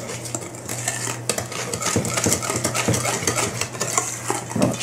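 Peach cobbler batter of flour and milk being mixed in a bowl, a steady scraping and clinking of a utensil against the dish, continuous and fairly close with busy rhythmic strokes and no talk.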